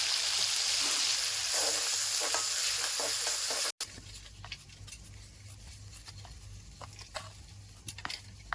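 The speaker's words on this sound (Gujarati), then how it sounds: "ડુંગળીને એકદમ કહાવા દેવાની છે" Onions sautéing in a pan for a Kathiyawadi stuffed papad curry, a steady sizzle and patter with intermittent stirring scrapes, loudest at first, then a brief break and quieter frying with sporadic ticks.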